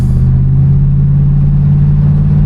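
A 1981 Chevrolet Corvette engine revs up close, a loud, deep, steady rumble that holds high for a couple of seconds with no speech over it.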